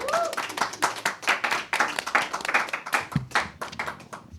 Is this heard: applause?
yes